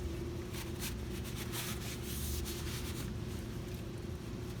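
A clean towel rubs over a brake rotor sprayed with brake cleaner. Close, repeated scrubbing strokes of cloth on metal play over a low steady hum.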